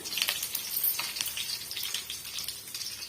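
Mustard seeds, dried red chillies and curry leaves crackle and splutter in hot oil as a tempering for Tamil-style tomato rasam, a steady close sizzle with dense popping throughout and no talking.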